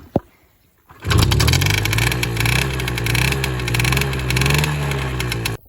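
A Romet motorynka moped engine catches after a short click and quiet pause, then idles loud and close with a rough putter, its revs swelling and dipping as the throttle is blipped.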